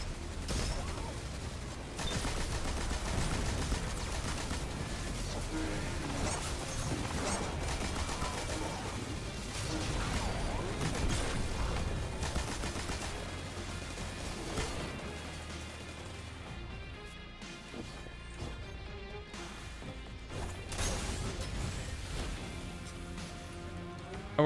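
Dense, sustained gunfire from a Destiny firefight, with rapid overlapping shots and crashing impacts running continuously for the whole stretch under busy game effects.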